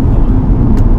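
Mercedes CLA 45 AMG in Sports Plus mode, its engine giving a loud, steady low exhaust drone heard close up for about a second.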